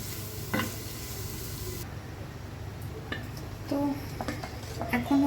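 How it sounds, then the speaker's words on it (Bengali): Potatoes fry in a little oil while being stirred, a steady sizzle overlaid with scraping stirs and a few clinks of utensil against pan, close and moderately quiet. "একটু তেল দিয়ে হালকা ফ্রাই করলেই হয়ে যাবে পরে মানে একটু ভাজা ভাজা করে ফেলবো"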